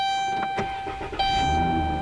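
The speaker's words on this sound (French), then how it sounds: "Et maintenant j'allume la voiture." A car engine cranks and catches on a cold winter day, a few short mechanical bursts followed by the engine settling into a steady idle, close and fairly loud with a faint high electronic tone throughout.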